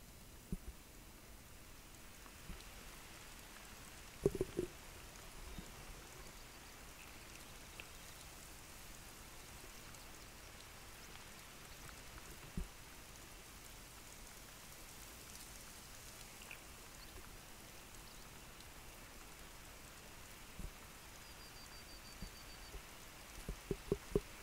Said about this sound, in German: Jetzt fängt es auch mal wieder an zu regnen.